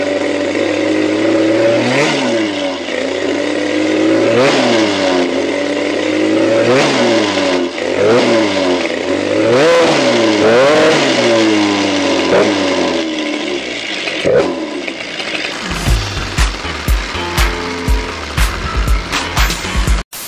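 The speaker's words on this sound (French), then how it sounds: "Moteur allumé, moteur bien chaud. Je lui ai donné des coups de gaz." A warmed-up MBK Booster moped's 70cc Top Performances two-stroke engine revs up and down repeatedly in rising and falling bursts, loud and close, then settles into a rougher, sputtering idle.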